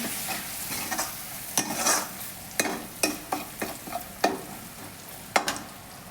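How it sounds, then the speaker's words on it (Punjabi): Spices with salt being stirred and fried in a pan for village-style cauliflower sabzi: a steady soft sizzle broken by a series of sharp scraping clacks of a spoon against the pan, close and alone. "2 ਚਮਚ ਨਮਕ ਪਾਉਣਾ ਮਿਕਸ ਕਰ ਦੇਣਾ ਮਸਾਲਿਆਂ ਨੂੰ ਚੰਗੀ ਤਰ੍ਹਾਂ ਪਕਾ ਲੈਣਾ"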